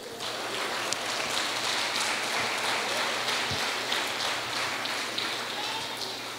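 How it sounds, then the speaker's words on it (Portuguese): A church congregation applauds during a sermon, a soft, continuous patter of many hands clapping at a distance, steady and even for several seconds, with faint voices mixed in. "Você pode dar um aplauso ao Senhor Jesus?"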